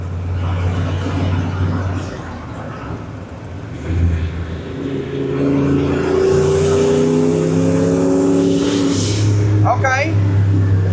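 Turbocharged 331 engine in a 1976 Ford F250 revs up and holds a loud, rising drone close by, with a turbo whistle and brief voices underneath.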